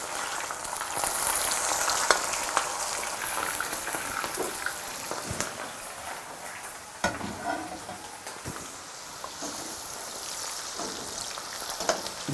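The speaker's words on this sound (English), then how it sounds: "And now the oil is hot enough. Gently lower the okra." Okra frying in hot oil, a steady dense sizzle with crackling pops throughout, close and loud, with no talking.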